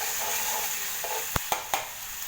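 Mustard seeds and cumin fry in a pan over a medium flame while being stirred. A steady close sizzle hiss runs throughout, broken by three sharp spoon clinks against the pan near the end, with no talking.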